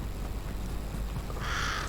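A crow caws in a Fortnite match, a short harsh call rising near the end over steady game ambience.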